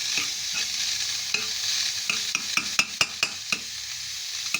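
Minced meat frying with onions in a pan gives off a steady sizzle, broken by a run of sharp clicks and scrapes from stirring that grow more frequent toward the end.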